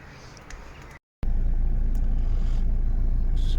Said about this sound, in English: Car fired up and ready to roll.